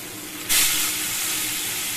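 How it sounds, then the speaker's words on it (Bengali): Fish goes into hot oil in a kadai with a sudden loud sizzle that settles into a steady, bright frying hiss. "কড়াইতে তেল গরম হয়ে গেছে, আমি এখানে মাছের ঝোলের জন্য মাছ ভাজাটা বসাবো"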